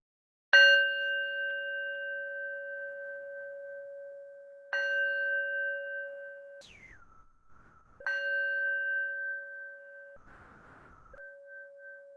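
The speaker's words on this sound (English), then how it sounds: "And I'll start by ringing the bell." A meditation bell is struck three times, each strike a clear ringing tone that sustains and slowly fades, with a brief higher rising tone between the second and third strikes; no talking.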